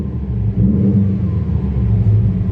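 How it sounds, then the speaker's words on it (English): Low, steady burble from the EJ boxer engine of a 2020 Subaru STI, a deep uneven rumble idling near and loud with a slight swell midway, no voices. "another big thing is that Subi rumble"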